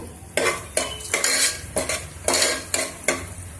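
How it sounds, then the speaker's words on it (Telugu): Whole spices with cardamom and cloves frying in a pan for mutton keema, a rhythmic series of about eight sizzling scrapes as a spatula stirs them, close and fairly loud, with no talking. "ఒక రెండు యాలకలు అన్నీ వేసుకొని కొంచెం ఫ్రై చేద్దాము మసాలాలన్నీ"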